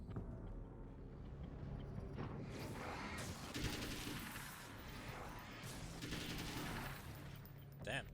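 Gunshots in the game Alan Wake's American Nightmare, heard as several bursts of firing over a constant low rumble of game ambience, moderately close.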